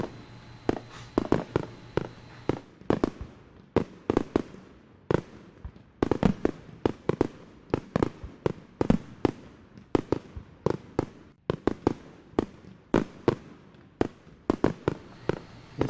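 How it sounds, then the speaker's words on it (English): Fireworks sound effect: a rapid series of sharp, loud bangs and crackling pops, irregularly spaced and continuing throughout, with no talking. "Oh, I'll start off with some fireworks."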